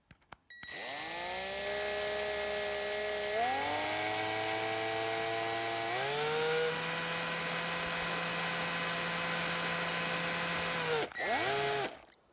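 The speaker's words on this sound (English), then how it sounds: "Now, I just want to put a very small hole in there." A Milwaukee power drill whines continuously for about ten seconds boring a very small hole in a sculpture, its pitch stepping up twice as it bores, then briefly revs and stops.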